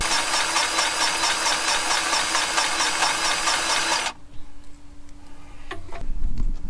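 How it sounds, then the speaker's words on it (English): An electric grease gun pumps grease into harvest machinery with a loud, steady buzzing, rattling motor drone for about four seconds before cutting off, followed by quieter clanks and handling noises. "It really has sped up our greasing since we got electric grease guns."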